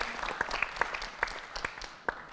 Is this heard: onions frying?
no